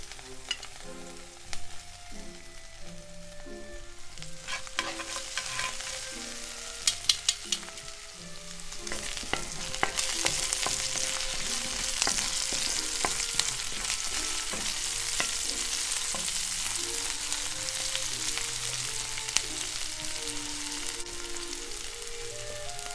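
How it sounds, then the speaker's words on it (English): Onion fries and is stirred in a pan, giving a steady sizzle that builds louder partway through, broken by frequent scraping and clinking stirring strokes, with no talking. "I can continue cooking the onion until it gets nice and browned and caramelized"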